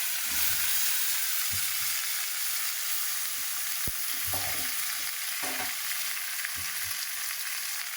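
Whole spices, bay leaf, tomato and boiled yam frying in hot oil, a loud, even hiss of sizzling that runs unbroken, with a few soft knocks and thuds of stirring beneath it.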